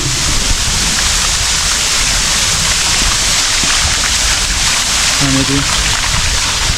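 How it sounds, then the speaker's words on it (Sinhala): Water tumbles down a small rocky waterfall on Ballahalagala mountain, a steady broadband rush that fills the whole stretch, loud and close, with a brief voice near the end. "මෙතනින් මේ වතුර වැටෙන බලන්න."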